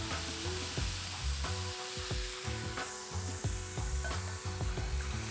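A smashburger patty sizzles loudly in a cast iron pan, a dense steady frying hiss with scraping and metal clatter of a plate pressing it down, close and continuous.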